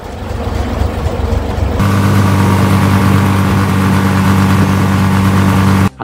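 Vehicle engine running steadily while reversing, a loud constant hum that deepens and thickens partway through as the gear engages, cutting off abruptly at the end.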